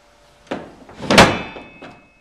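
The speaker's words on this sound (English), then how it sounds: "When sliding the bed into place, make sure the copper bushings are lined up on the side rails of the bed face." Wall bed with copper bushings on its side rails sliding into place, a soft scrape followed by a louder hollow thump and a lighter knock, close and alone.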